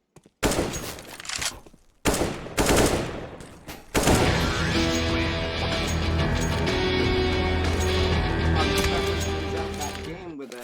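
AK and M4 rifle fire in Counter-Strike: Global Offensive during a tournament match, a few sharp single shots followed by continuous loud automatic bursts, with a commentator talking over them.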